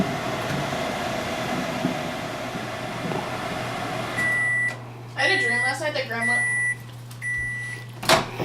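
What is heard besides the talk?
microwave oven running and beeping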